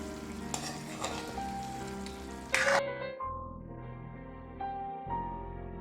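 Chicken with green masala and pepper sizzles and fries in a pan, with a steady crackle and a few sharp stirring clinks and scrapes. A lid is set down partway through, leaving a quieter, muffled sizzle.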